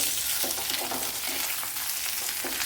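Chopped carrot sautés for egg stew in a pan, producing a dense, loud, unbroken sizzle close by, with faint stirring scrapes running through it and no speech.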